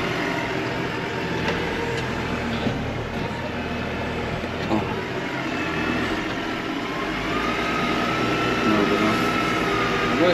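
Engine of a John Deere 6920 tractor ploughing a field, a steady loud drone with a continuous low rumble throughout, close and unbroken, with faint background noise.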